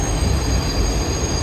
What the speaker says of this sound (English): it's a fucking train on a bridge.